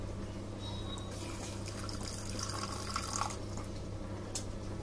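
Water is poured into mustard oil in a kitchen while making a paste for Bengali rui fish bhapa curry, a faint steady trickle and drip running continuously.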